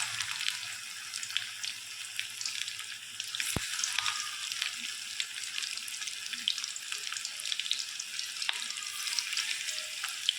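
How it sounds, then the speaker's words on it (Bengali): Chicken pakoras sizzle steadily in hot oil, a dense bright crackle with a few sharp spits and pops, close and fairly loud throughout with no talking. "একটা একটা করে চিকেনগুলোকে আমি সব ছেড়ে দিচ্ছি তেলের মধ্যে"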